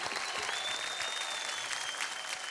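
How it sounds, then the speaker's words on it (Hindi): Studio audience applauding the contestants of a televised dance competition, a steady spread of clapping heard faintly, with a thin high tone running beneath it. "जोरदार तालियां हो जाए इन 12 डांसिंग स्टार्स के लिए"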